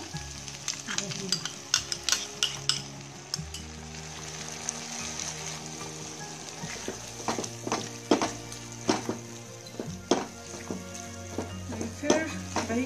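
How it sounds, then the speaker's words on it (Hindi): Masala for egg biryani sizzles in a pan after yogurt is added, with a steady hiss of frying and repeated scraping and clinking as a spoon stirs it close by. "फिर दही के साथ भी अच्छी तरीके से फ्राई करना है"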